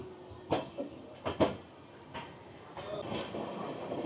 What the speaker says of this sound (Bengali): ভাগলপুর জংশনের 1 নম্বর প্ল্যাটফর্ম থেকে ট্রেনটি তার নির্দিষ্ট গতি নিচ্ছে আস্তে আস্তে